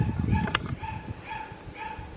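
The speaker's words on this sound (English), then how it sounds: "Can you hear the puppy barking?" A puppy barks faintly in a few short, high yips spaced across a couple of seconds, somewhere off at a distance beneath low outdoor rumble.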